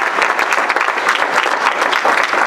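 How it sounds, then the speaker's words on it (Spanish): A church congregation applauds loudly during a sermon by a Catholic priest, producing a dense, steady wash of many hands clapping that fills the whole moment without any voices. "Dale un fuerte aplauso al Señor por su amor y su misericordia."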